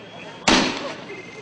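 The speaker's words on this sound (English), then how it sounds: "They were met with tear gas and shot grenades." A single sharp blast from a stun grenade or tear gas canister fired at protesters marching in Hebron, striking loudly and then trailing off into a hissing rumble over faint crowd noise.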